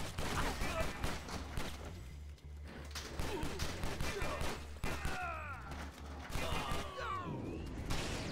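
Gunfire in the video game Stranglehold, rapid bursts of shots and crashing impacts filling the scene almost continuously, with someone talking over the action.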